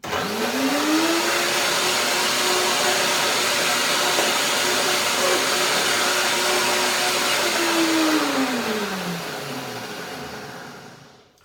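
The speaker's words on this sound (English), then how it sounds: "Now blender dance again, one more time." A blender whirs steadily while blending a cauliflower curry dressing, a loud continuous motor drone that rises at the start, holds for several seconds, then winds down at the end.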